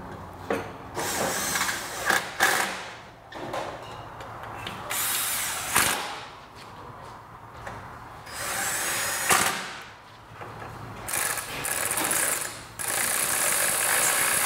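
Close, busy tool work on a Vespa GTS rear wheel as a ratchet snugs the bolts, with repeated ratcheting clicks and whirring mechanical bursts coming in uneven spurts.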